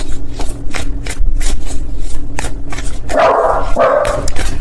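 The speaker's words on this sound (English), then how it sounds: "Please ignore my dogs in the background." Several dogs bark indoors in the background, a series of sharp repeated barks and yips in irregular rhythm, growing more intense near the end.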